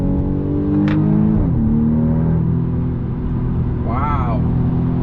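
A 2020 BMW M235i Gran Coupe engine holds a steady 5,000 RPM while driving, a loud, even drone heard from inside the car that barely changes pitch, with a brief higher whine partway through.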